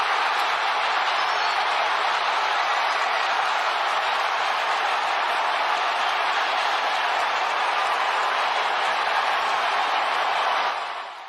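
Stadium crowd in Arlington roaring after a home run, a dense sustained wall of cheering that stays loud and even for about eleven seconds before easing off at the very end.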